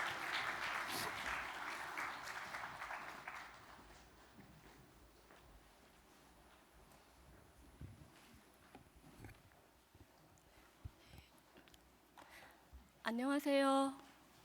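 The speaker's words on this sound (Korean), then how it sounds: "우리 큰 박수로 우리 축복하겠습니다" A church congregation applauds during a Sunday service, the clapping fairly strong at first and then tapering to quiet scattered claps, followed by low voices and a brief spoken word.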